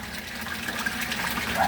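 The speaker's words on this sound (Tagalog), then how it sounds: "Rizan aerator pump po. Ang lakas-lakas oh." A Resun aquarium aerator air pump runs steadily, pushing air into water with a continuous, fairly loud bubbling and gushing wash that never pauses across the short stretch.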